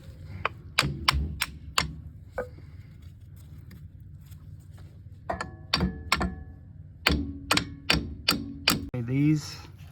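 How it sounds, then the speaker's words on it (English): Sharp metallic hammer blows knock a worn inner brake pad out of the rear caliper on a 2019 Ford Fusion Hybrid, coming in clustered bursts of four to six loud strikes separated by pauses. "And the inner one here, just hammer it out."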